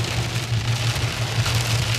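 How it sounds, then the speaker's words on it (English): Heavy rain suddenly pouring down, a dense steady hiss with a constant low hum underneath, loud and unbroken, no voices. "It just started raining heavy as hell out of nowhere."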